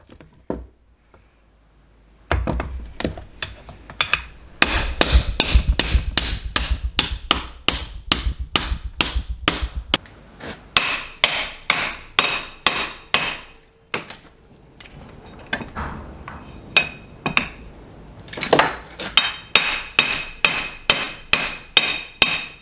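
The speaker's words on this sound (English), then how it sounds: "I'm going to take off the pedal and just oil it and beat the crap out of it with a hammer." A hammer strikes a stuck metal pedal from an old CAT machine again and again, sharp ringing metallic blows landing in rapid bursts and steadier runs at close range, with no talking.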